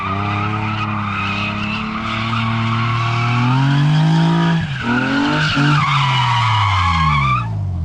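Nissan S13 cars drifting in tandem on a street, a loud close engine drone rising and falling in pitch under continuous screeching tire squeal that runs almost the whole time before cutting off at the end.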